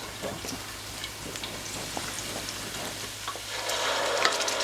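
Tomatoes dropped into a pan of frying caponata with celery and onions, giving a steady soft sizzle with faint stirring clicks that swells slightly near the end.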